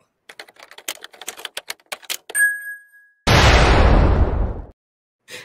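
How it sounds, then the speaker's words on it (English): Rapid clicky tapping, then a brief ding, then a loud explosion erupts from a played video, a roaring blast that holds for over a second before cutting off abruptly. "Maybe the explosion is just a little bit too loud."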